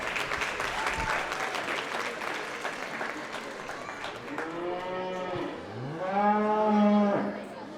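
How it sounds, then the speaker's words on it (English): A crowd claps steadily for several seconds at a junior livestock show, with a cow mooing loudly over the applause toward the end. "Let's give all these kids a big round of applause."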